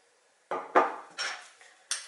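Custard cream mixed with food coloring diluted in lemon juice, stirred in a bowl for lemon pastries: a few distinct scraping clinks of utensil against bowl, close and moderately loud, with no talk.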